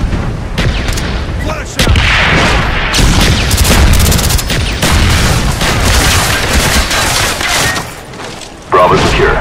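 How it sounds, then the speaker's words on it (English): Artillery strikes pound the map in Call of Duty Black Ops, a loud barrage of heavy booms and rumbling blasts rolling one after another, with gunfire crackling between them. "Coordinates received, firing for effect."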